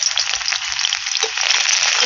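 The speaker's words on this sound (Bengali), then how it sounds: "একটু ভেজে নেবো রসুনটা।" Chopped garlic frying in hot white oil in a kadai: a close, steady, unbroken sizzle with a soft crackle running throughout, and no voices.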